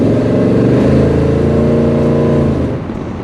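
A Chevelle SS V8 engine revs loud and close, a deep throaty roar with strong rumbling harmonics that holds steady, then eases off near the end, with no voices.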